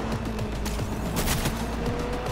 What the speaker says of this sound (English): Tap weapons allow you to charge up powerful shots that can pierce the light cover to hit enemies